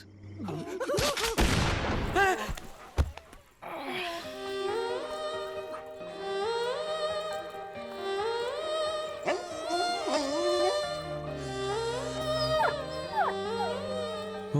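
Gunfire in a scene from the Tamil dog-themed thriller Naaigal Jaakirathai, set in woods: a few sharp, loud bangs in the opening seconds, followed by a swelling film music score.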